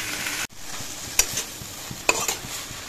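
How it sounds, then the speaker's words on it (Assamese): Water spinach fries in a pan with a steady sizzle, broken by a few sharp scrapes and clicks of stirring. The sound is close and unaccompanied by speech. "কলম শাক ভাজি থাকোঁ।"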